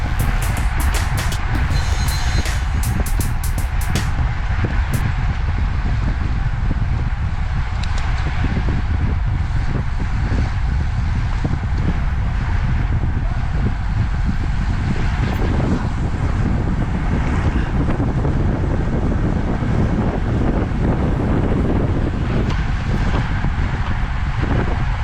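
Steady, loud wind roars across the microphone while a cyclist rides alone into a headwind, a constant rushing buffet with no pauses.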